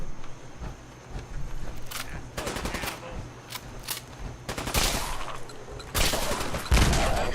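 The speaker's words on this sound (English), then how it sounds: "Who are you shooting at?" Gunfire in the video game Fallout, with scattered shots and rapid bursts over steady background noise, growing heavier toward the end and ending in a deep blast.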